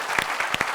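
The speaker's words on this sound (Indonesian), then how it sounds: "Jadi kita beri tepuk tangan." A television studio audience claps together, a short burst of brisk applause with a few louder individual claps standing out.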